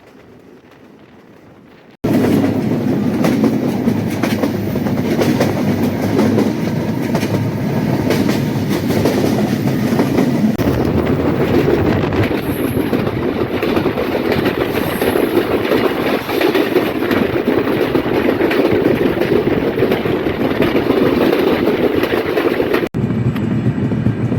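Ruposhi Bangla Express train running from Benapole to Dhaka, a loud, continuous roar of wheels and carriage rattle with steady clickety-clack and rushing wind, starting abruptly after a brief quiet moment.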